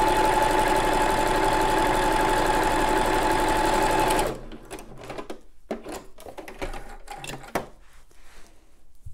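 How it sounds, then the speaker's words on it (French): A sewing machine runs a zigzag overcast stitch along both fabric edges of a pyjama top with butterfly sleeves, a steady continuous whir for about four seconds, then stopping and giving way to faint handling clicks and rustles. "Là je suis en train de faire un surfilage."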